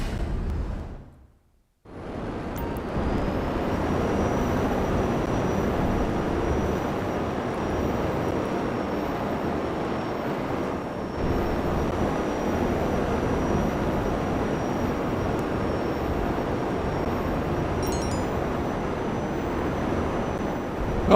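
A jetpack flying in GTA 5 Online gives off a steady, loud jet-like roar that fills the whole stretch, broken only by a brief drop near the start. No voices are heard.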